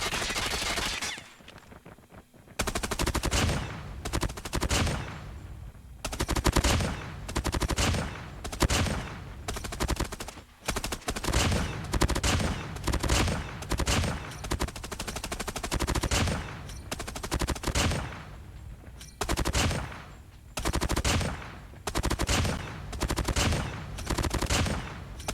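A PDW-57 in COD Mobile fires loud, rapid automatic bursts, close and dense. Short pauses separate repeated strings of gunfire.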